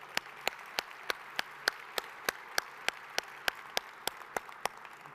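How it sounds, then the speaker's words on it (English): An audience at a municipal meeting claps in a thin, sparse round of applause, individual hand claps ringing out at a steady rhythm for several seconds, with no talk over it. "we'll give her another round of applause"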